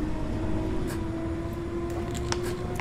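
In Train Simulator 2020, a C69 Stock underground train's air compressor runs as a constant low mechanical hum with a steady drone, accompanied by faint scattered clicks and knocks.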